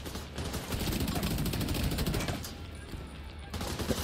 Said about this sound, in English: Man, what the hell are you guys shooting?